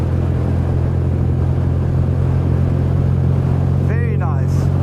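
1979 BMW R65 motorcycle with a warm engine idling in a loud, steady low rumble close to the microphone, then briefly revved near the end.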